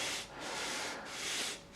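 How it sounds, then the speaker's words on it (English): A straight edge of wood is sanded by hand during a homebuilt airplane build. The rubbing is steady and close, with strokes that rise and fall and no pauses. "he's sanding that edge straight"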